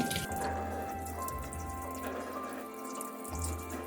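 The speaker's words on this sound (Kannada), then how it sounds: "ಮೇಲ್ಗಡೆ ತಣ್ಣೀರು ಬಿಡ್ತೀನಿ" Cold tap water runs steadily over cooked sheep or goat blood in a village-style kitchen, a continuous close splashing stream with small drips, no talking.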